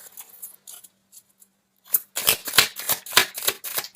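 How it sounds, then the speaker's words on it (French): Tarot cards taken out and shuffled: a few faint handling taps, then a close run of brisk riffling shuffles, crisp and rhythmic, with no talking. "Maintenant, vous pouvez sortir les cartes."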